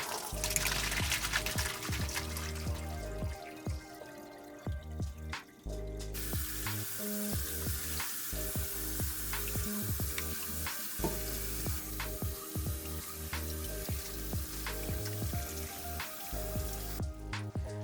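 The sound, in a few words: draining cooked noodles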